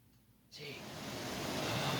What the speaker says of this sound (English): Oh, look at all that rain.